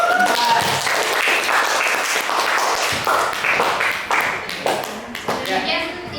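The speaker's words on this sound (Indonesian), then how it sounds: "tepuk tangan untuk kelompok 4." Applause and clapping from a classroom group of teachers and students at a madrasah presentation session, with voices and children's chatter mixed in throughout.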